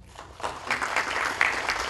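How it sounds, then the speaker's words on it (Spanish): An audience applauds after a criminal law conference on victims, with steady, fairly close clapping throughout. "Fuertes palmas, por favor"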